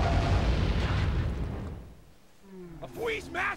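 Cannon fire in the Sly 3 video game, a loud low booming blast that rumbles and fades over about two seconds, followed by rising whistling game effects.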